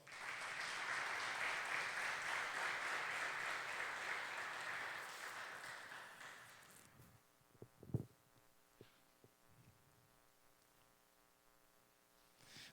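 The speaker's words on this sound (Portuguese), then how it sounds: "E eu quero um aplauso para o Senhor." A church congregation applauds during a Portuguese-language sermon: dense, steady clapping for about seven seconds that then fades away, leaving a quiet room with a few scattered knocks.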